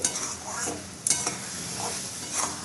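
A spatula stirs grated carrot halwa with sugar melting in a pan, giving soft scraping strokes and a couple of metal taps over a low sizzle, no voices.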